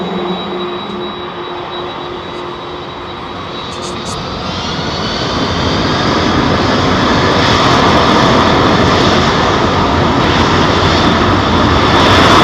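A Boeing 757 with Pratt & Whitney engines takes off at London Heathrow Airport, a close, loud, continuous jet roar that builds and holds steady throughout, with no talk.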